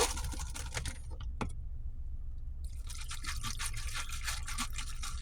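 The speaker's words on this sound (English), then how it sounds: "I'm going to go ahead and get it cracked open here." A can of Monster Rehab energy drink cracks open with a few sharp clicks and a fizzy hiss, then goes quiet before a longer spray of foaming liquid follows.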